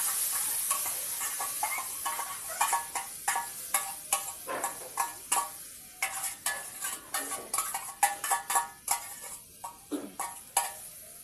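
A paste of onion, green chilli, coriander and cumin with a little tomato fries in fish oil, a bright steady sizzle broken by rhythmic scraping stirs close up.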